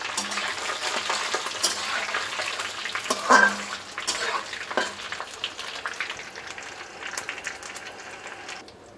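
Panch phoron whole spices crackle and sizzle as they are tempered in hot oil over low heat, a steady frying hiss with a few sharper pops, heard close and without talk.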